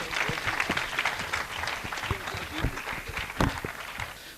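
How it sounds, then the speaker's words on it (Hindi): A church congregation applauds to welcome a preacher, a steady patter of many hands clapping in a room, with voices calling out over the applause. "सब तालियां बजाएं और खुदावंद के बंदा को वेलकम करें"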